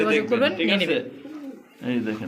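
Pigeons kept for sale coo in soft, throaty bursts close by, interrupted by a short pause, with someone talking over them.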